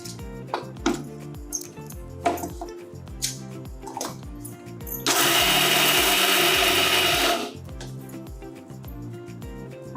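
Roasted peanuts are coarsely ground in a kitchen mixer for sabudana vada, a steady loud whirring burst of about two seconds cutting through background kitchen clatter and rhythmic music.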